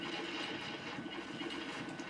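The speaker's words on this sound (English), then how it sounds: "There's your train." Train rolling along in a Minecraft-style video game, a steady dense rumble and rattle that continues without pause, fairly loud and alone.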